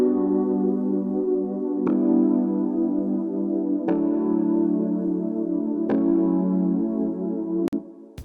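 A synth chord progression from the Unison MIDI Chord Pack plays steady sustained chords, changing roughly every two seconds with soft attacks, with no voices over it.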